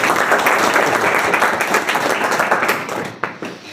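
An audience at a coaching-centre prize ceremony claps for a first-prize winner, a dense burst of hand clapping that stays steady and then thins out toward the end.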